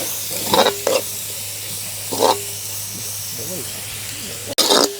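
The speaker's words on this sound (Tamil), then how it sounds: "வெங்காயம் பச்சை மிளகாய் நல்லா வதங்கிட்டுது" Onions and green chillies sauté in a pan with a steady close sizzle and hiss, broken by a few short clattering bursts of stirring, while a voice speaks briefly at times.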